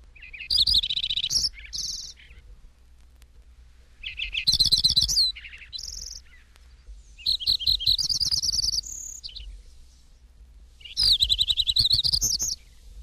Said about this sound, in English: Lincoln's Sparrow.